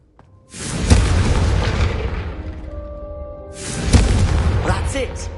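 Confringo fire spell blasts from the Hogwarts Legacy video game, two loud booming bursts with rumbling tails a few seconds apart, voices talking over them.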